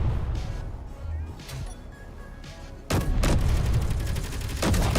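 Rapid automatic gunfire from a Gatling gun in the video game Space Engineers, loud bursts kicking in partway through over rumbling artillery and battle noise, with voices talking.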